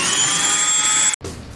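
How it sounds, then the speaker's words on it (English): A Dremel rotary tool grinding and smoothing plastic parts of a Revell B-17 Flying Fortress scale model, a loud, steady high-pitched whine that cuts off abruptly near the end before a softer tail. "I save your ears the high-pitched whine of the Dremel by putting it in time-lapse"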